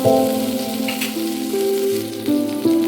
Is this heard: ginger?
yes